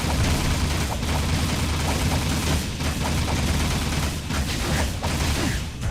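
Gunfire in Jak 2: Renegade, dense rapid shots and booms piling into a loud, continuous barrage over game noise, with no voices.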